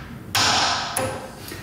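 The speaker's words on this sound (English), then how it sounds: "Got your little Japanese hammer there." A small Japanese hammer striking a corner chisel set into a hard oak door, two sharp metallic taps with a ringing decay, the first loud and the second close after.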